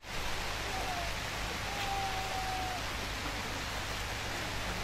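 Rain falls steadily at an outdoor village gathering, a dense, even hiss that persists throughout, with no distinct voices over it.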